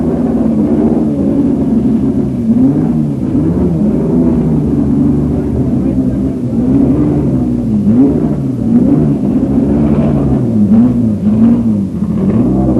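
1970 Ferrari racing cars pull away on a wet Brands Hatch circuit, their engines a continuous loud rumbling drone with rising and falling revs blending into one another throughout.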